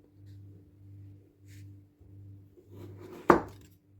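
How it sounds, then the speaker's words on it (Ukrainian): A knife slicing homemade chocolate sausage styled like a Twix bar into thin pieces: soft, evenly spaced cuts in a steady rhythm, close and quiet, ending in one sharper knock of the blade on the board. "нарізаємо на тоненькі шматочки"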